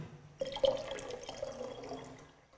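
Water poured from a container back into a jug during a primary school science lesson: a soft splashing pour that starts abruptly, trickles and gurgles at close range, then tapers off, with no talking.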